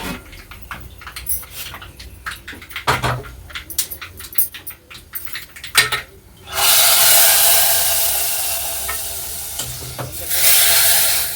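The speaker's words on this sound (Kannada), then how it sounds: "ಸಾಸಿವೆ ಕರಿಬೇವು ಅಷ್ಟೇ ಫ್ರೆಂಡ್ಸ್ ಒಗ್ಗರಣೆಗೆ" Scattered clicks and pops of mustard seeds crackling, then a sudden loud, bright hiss as curry leaves hit hot oil and sizzle strongly, a tempering for sambar.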